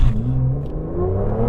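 An Aston Martin V12 Vanquish engine accelerates hard, a deep loud rumble whose pitch climbs steadily as revs rise, heard from inside the car with no talk.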